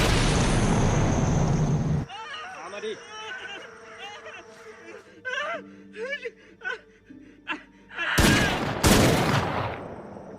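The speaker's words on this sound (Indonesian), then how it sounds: "T pun menembakkan senjatanya, namun sasarannya melenceng ke arah pohon. Dengan kejinya, T menembakkan bom" Gunfire and a bomb blast from a prison film scene where a guard fires a weapon: a loud burst opens, then quieter talk and scattered activity, and two heavy, sharp blasts near the end.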